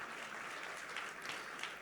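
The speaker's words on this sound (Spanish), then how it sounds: "Fuerte ese aplauso de alabanza al Señor." Steady applause from a congregation praising the Lord during an evangelical church service, a moderate, even wash of clapping with no speech over it.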